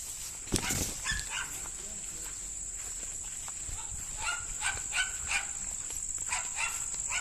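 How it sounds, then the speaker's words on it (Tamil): A puppy at a rural home yelps and barks in short, scattered bursts at moderate distance, over a steady high chirring of insects and faint background voices. "நாய்க்குட்டி வேற கத்திகிட்டே இருப்பான்"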